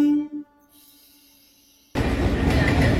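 The Howrah–Balurghat Express passing alongside on the line near Belur Math: a quiet hum with faint tones gives way abruptly to a loud, close, broadband rumble of the train rolling by.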